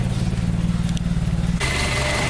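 A Toyota AE86 engine fitted with a Martelius header, T3 test pipe and Fujitsubo exhaust runs at a steady, throbbing idle close by, its rumble shifting to a rougher, brighter tone partway through.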